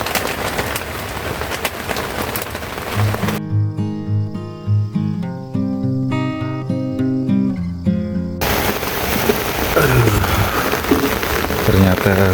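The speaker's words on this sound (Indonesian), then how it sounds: "Sekarang udah jam 9 lewat dan hujannya belum juga berhenti." Steady rain hisses down at the Annapurna campsite in a dense, continuous wash. The rain is interrupted midway by a stretch of music and then resumes just as heavy.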